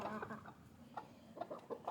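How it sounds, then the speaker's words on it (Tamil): Black chickens clucking in a rural yard, a few short, soft clucks and calls scattered over a couple of seconds at low volume, fairly close by. "கோழியெல்லாம் பாருங்கள்"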